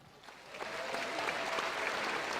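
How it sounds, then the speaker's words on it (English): Studio audience applauding a comedian on a morning show, a broad hiss of clapping swelling from light to full and holding steady, with faint voices mixed underneath. "I was expecting a clap."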